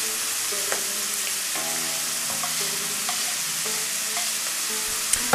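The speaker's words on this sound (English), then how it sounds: "Mix all those flavors into the seafood." A spoon stirs chopped dill and parsley into simmering lobster chowder, with soft sizzling and intermittent scraping knocks against the pot, close and without voices.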